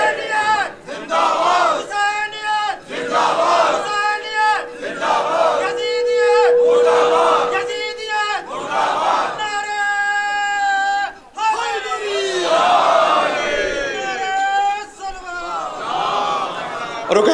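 A large gathering at a Shia religious commemoration in Sajjad Bagh, Lucknow, chants religious slogans: loud, repeated collective shouts in call-and-response bursts led by a single voice, filling the space throughout.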